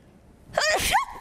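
A single sharp sneeze bursts out, loud and close, with a quick inhaled buildup followed by an explosive release.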